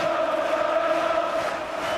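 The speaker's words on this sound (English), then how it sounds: "But you can hear what the crowd feel about it" A football crowd at a 1984/85 Manchester City home match against Charlton Athletic sends up a steady, dense roar of massed voices that holds at an even level throughout.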